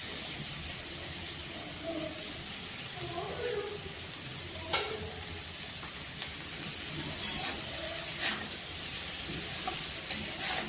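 Cabbage frying with potatoes in a pan, a steady loud sizzle and hiss with occasional stirring scrapes and clinks, close and continuous, without speech.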